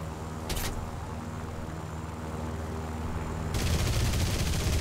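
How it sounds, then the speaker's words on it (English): In War Thunder tank combat, a sustained rumble of engine and gunfire builds, then a sudden loud broadband burst of an incoming tank shell impact crashes in near the end and carries on noisily. "Ooh, that was a shell."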